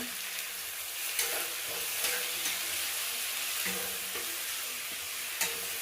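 Chopped tomato goes into a pan of hot oil and sets off a steady, dense sizzle, with a few soft stirring clinks up close and no talking.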